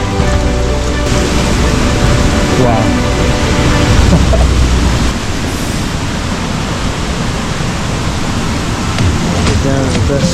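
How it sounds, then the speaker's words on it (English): Roar of a waterfall on a hike in Stowe, Vermont, a loud, steady broadband rush filling the whole clip, with a voice briefly exclaiming over it. "you can actually kind of start to hear the roar of the waterfall here"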